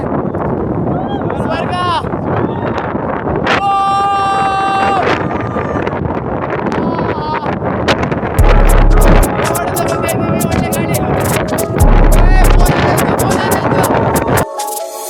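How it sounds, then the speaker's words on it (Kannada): Strong gusts on the summit of Shivagange hill buffet the microphone with heavy low roaring bursts, under people talking nearby. "ಗಾಳಿ ಬರ್ತಾ ಇದೆ"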